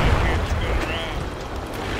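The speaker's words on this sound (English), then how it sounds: "they're mortaring this" Mortar fire in the video game Project Reality, heavy rumbling booms rolling under a loud, noisy battlefield, with a voice heard faintly among the blasts.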